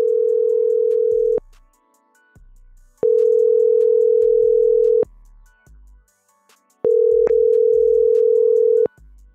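Telephone call ringback tone: three long, steady electronic tone bursts of about one and a half to two seconds each, separated by quiet pauses, loud and clear with no talking.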